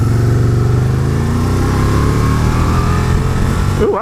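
Steady, loud engine drone from a 2012 Can-Am Spyder RS-S on the road, its pitch easing slightly downward as it works down through the gears, with a brief shift in tone at the very end.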